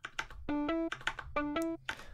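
Muted guitar sample from a stock Ableton pack, distorted and vocoded, looping tonal plucks that alternate with crisp tapping clicks in a steady rhythm, quiet and without any voices.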